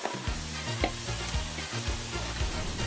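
Beaten egg fries thin in a pan for gimbap, giving a loud, dense, continuous sizzle and crackle under a low, rhythmic background hum.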